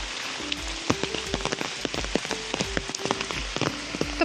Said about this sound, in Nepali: पानी आउँदैछ